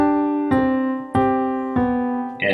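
Piano plays a song with the inner voices as loud as the melody: four evenly spaced, full chords, each ringing out before the next, clear and close.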